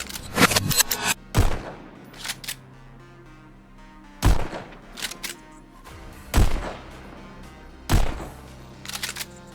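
Video game gunfire with strong recoil, heard through OWO haptics gameplay: loud, close shots and short bursts spaced a second or two apart, each with a ringing tail.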